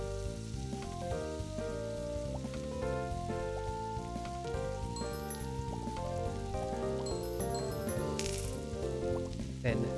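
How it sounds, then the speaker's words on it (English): Meat cooking in Cinnamon's Cooking Quest, a soft continuous sizzle beneath a layered melodic game soundtrack, with brief chime-like accents near the end. "Okay, let's cook the meats."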